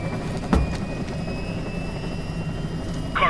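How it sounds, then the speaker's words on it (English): An aircraft taking off in the game Metal Gear Rising: a continuous engine whine slowly climbs in pitch over a steady roar, with a short thump early on and a brighter surge at the end. "Commencing takeoff in semi-auto mode"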